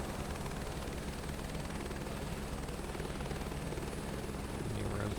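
Helicopter engine in a flight simulator video game, a steady loud turbine whine and low rotor drone holding evenly throughout, swelling slightly at the very end with no talking.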